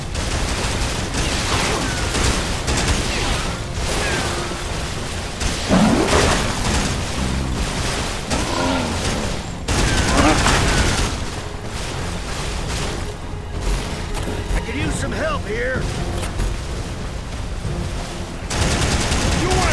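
Dense rapid video game gunfire crackles almost nonstop with booming bursts layered in, while a voice briefly calls out partway through.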